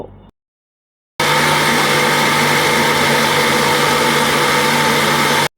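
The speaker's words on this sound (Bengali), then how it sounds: "এখন এগুলোকে ভালো মতো একটু ব্লেন্ড করে নিব যাতে কোনো আঁশ না থাকে" A blender purees raw mango pulp with green chili and mint for a sharbat, a loud, steady whirring roar that starts abruptly after a brief silence and runs for several seconds, with no talk.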